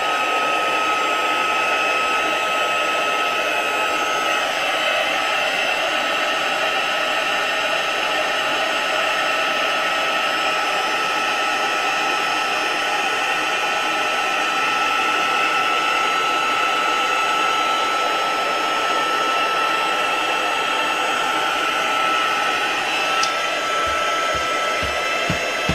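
A heat gun blows steadily on a handmade craft card, a loud, close, continuous whooshing hum with a whine that holds unchanged throughout.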